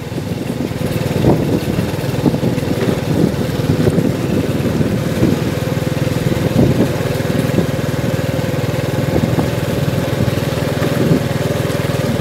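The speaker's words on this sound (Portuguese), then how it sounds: "Força muito o motor da moto" Motorcycle engine droning steadily while riding on city streets, a loud continuous hum with wind buffeting the microphone and no talking.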